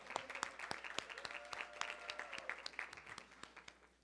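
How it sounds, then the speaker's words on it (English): Audience applause at a public event on juvenile justice, a quiet, steady patter of many hands clapping that fades toward the end. "Let's give him a round of applause"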